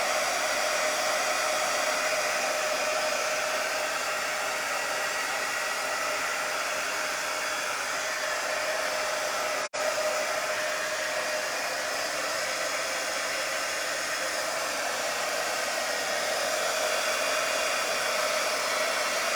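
A hair dryer blows steadily on an upcycled thrift store piece, a loud continuous whoosh running the whole time with one brief dropout midway.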